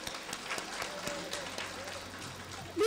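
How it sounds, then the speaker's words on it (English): An audience claps for the teachers at a Montessori school event, a steady, moderately loud patter of applause with a few voices mixed in. "Can we give a big round of applause for the teachers?"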